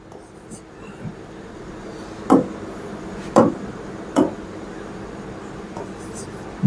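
Chalk or marker strokes on a classroom board as a teacher writes, several short distinct scratches spaced a second or so apart, moderately loud over a low room hum.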